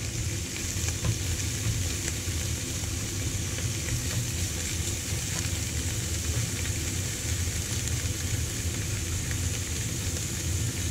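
Mushrooms sautéing in a seasoned, peppered pan give a steady, close sizzle with faint stirring scrapes, continuous and even throughout.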